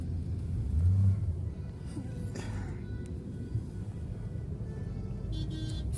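Road traffic near the Mahalaxmi temple in Mumbai during Navratri makes a steady low rumble of engines and moving vehicles, with a brief swell early on and no clear single passing car.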